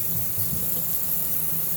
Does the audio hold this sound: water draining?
yes